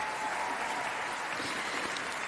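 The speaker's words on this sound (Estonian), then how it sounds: "Aplodeerib tänulik publik Pärnu muusikafestivalil ja ka Eesti Festivali orkestrandid aplodeerivad hoogsalt kaasa." A grateful audience and festival orchestra musicians applaud after a concert at the Pärnu music festival, a dense, steady wash of many hands clapping at moderate distance.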